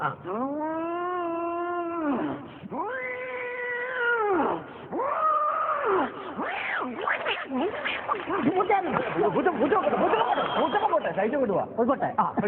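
A human voice imitates a second cat, producing drawn-out meowing and caterwauling calls, several rising and falling yowls in a row, loud and close, with no other talk.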